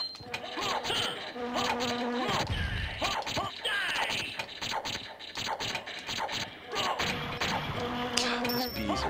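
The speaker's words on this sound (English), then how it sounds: "God, these bees are hideous." Bees buzzing during the Beelzebub boss fight in Castlevania: Symphony of the Night, a dense electronic drone mixed with game music, hits and effects, continuous and prominent throughout.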